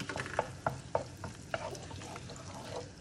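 Smoked pancetta cubes frying in melted butter in a pan, a soft sizzle punctuated by several sharp spatula scrapes and taps in quick succession, fairly quiet and without voices.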